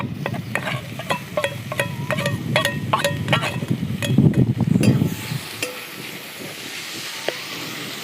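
Tomatoes frying with browning onions in a pan for a Maharashtrian dhapate meal, a close steady sizzle and hiss with repeated sharp clicks of stirring, fading to a softer hiss in the last seconds.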